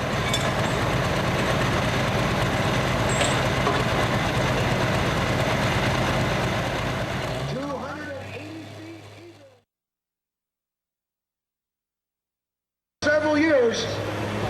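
A pro stock pulling tractor named Just Blowing Smoke, driven by Tim Brinkmeyer at the 2003 ATPA Midwest Summer Nationals, roars with a heavy, sustained engine drone that fades out, drops to silence, then returns abruptly at the end, with a commentator talking over it.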